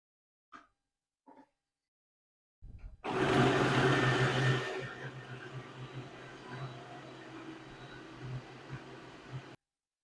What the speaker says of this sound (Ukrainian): овочі ми будемо зараз подрібнювати в блендері